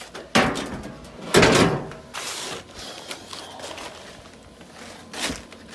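Clunks and thumps from taking the door off a Kenmore front-loader dryer, with a few sharp knocks and a scraping rattle spread over several seconds, fairly close and with no talk.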